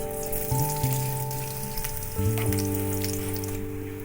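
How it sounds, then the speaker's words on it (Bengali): Black cumin and five-spice dropped into hot oil left from frying bora and aubergine, crackling and sizzling steadily up close, with sustained musical tones running underneath and no talking. "বড়া ভাজা আর বেগুন ভাজার তেলে একটু কালো জিরে পুরন দিয়ে দিলাম"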